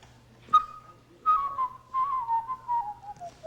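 A man whistles in imitation of a bird call, beginning with a sharp short note followed by a long, wavering, gradually falling phrase, close and clear, with no talk.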